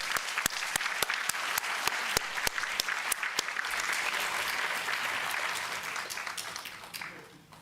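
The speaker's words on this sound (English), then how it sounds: "can you join me in giving a round of applause to all my three distinguished speakers" Symposium audience applauding the speakers as they come to the stage, a steady wash of clapping with a few sharp nearby claps standing out, fading away at the end.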